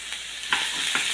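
French beans sizzle and fry in a hot pan, a steady close hiss with a couple of soft stirring scrapes breaking through.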